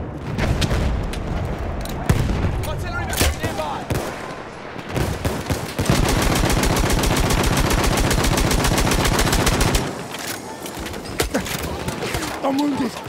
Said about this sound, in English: Artillery nearby.